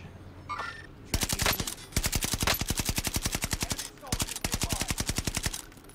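Rapid automatic gunfire from a jumpy gun in a video game rattles off in loud, tightly spaced bursts, with a short pause between volleys and a few faint game sounds before the first burst.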